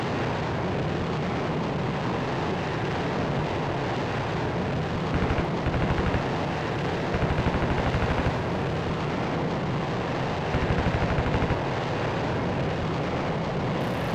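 Jet cannon fire in the air-combat flight game Strike Fighters: Vietnam, a steady roar of engine and gunfire with several louder bursts of rapid shots standing out across the stretch.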